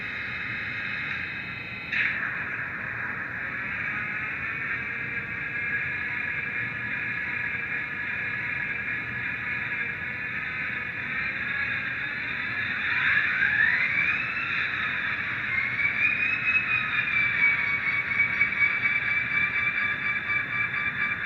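A LokSound-equipped Athearn SD40T-2 model locomotive plays a diesel engine start-up sound, a steady droning idle that holds and shifts slightly in pitch over about twenty seconds, with no talking.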